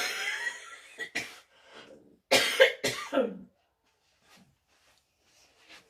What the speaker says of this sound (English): I'm going to cough again, excuse me.